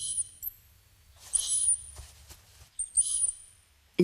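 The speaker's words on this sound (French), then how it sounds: "le chercheur installe une enceinte qui va diffuser les couinements de la souris à vitesse réelle" Mouse squeaks played at real speed through a loudspeaker set up by a researcher, heard as a few faint, very high-pitched chirps in short bursts over a quiet room.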